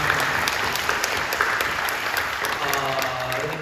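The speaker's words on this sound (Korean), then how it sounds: "박수를 경배해 주십시오." Steady applause fills a church during a Friday overnight worship service, dense and continuous clapping from the congregation with a few brief voices mixed in.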